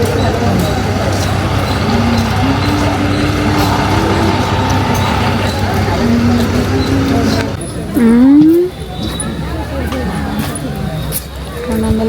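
Heavy traffic at a busy city bus stand in Mysore: buses and trucks idle and rumble nearby, with a loud air-brake hiss partway through, under constant chatter and crowd babble.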